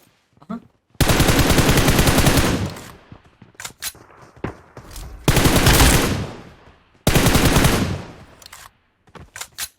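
Bursts of automatic rifle and machine-gun fire from the PUBG Mobile battle game, an M416 and MG3 in play: three long, loud, close volleys separated by short sharp single shots and brief gaps.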